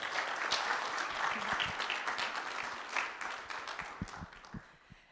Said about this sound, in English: So big round of applause for those two.